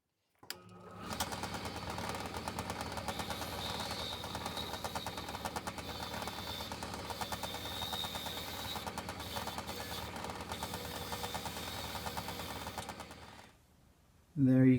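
An oscillating spindle sander works a folding knife handle. It gives a quiet, continuous buzzing hum with a fast, even rhythm that runs for about thirteen seconds before it stops. A short louder noise comes right at the end.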